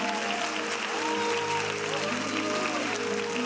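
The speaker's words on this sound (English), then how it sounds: "Somebody ought to really clap your hands." Audience applause at an evening gathering, steady dense clapping filling the whole moment beneath sustained tonal music or organ chords, with a few voices mixed in.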